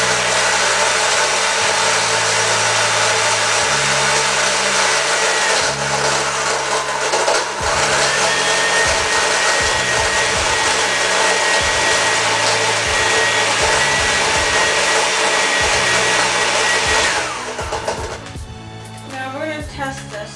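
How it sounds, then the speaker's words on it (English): A blender blending a dried fruit smoothie with ice: a loud continuous motor whine with rattling and grinding that runs for nearly twenty seconds, then winds down near the end. "Now, blend again."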